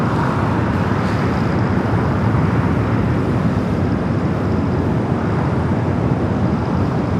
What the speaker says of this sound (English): Turkish Flight 10 heading back to Istanbul. Now starting its roll down to 25 at right.